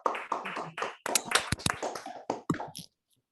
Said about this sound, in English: let's all unmute and clap